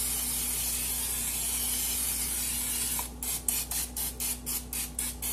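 A steady hiss runs under the first half, then a series of short bursts of cooking spray into a baking dish sputters in a rapid, uneven rhythm, close to the microphone.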